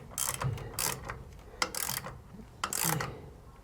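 A ratcheting wrench snugs up trailer taillight bolts with several quick bursts of close metallic clicking, separated by short pauses and faint handling noises.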